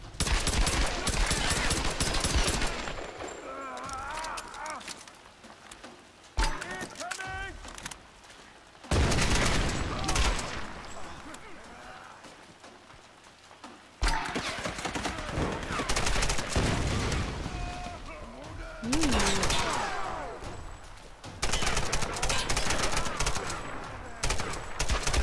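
Gunfire in Tomb Raider 2013 comes in loud repeated bursts of shots and rapid volleys, separated by quieter stretches with lighter activity and brief spoken remarks.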